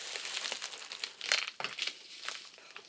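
A padded mailing envelope being handled, soft close crinkling and rustling of packaging in short irregular bursts, quiet and without talk.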